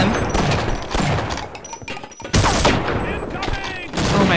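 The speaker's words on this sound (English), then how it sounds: "Rapid fire!" Rapid gunfire from weapons in the shooter game Half-Life: Opposing Force, dense overlapping bursts and impacts that briefly drop off, then resume loud and continuous.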